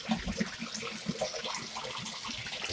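Water pouring steadily into a bathtub at bath time, a continuous splashing gush with faint bubbling close by, no talk.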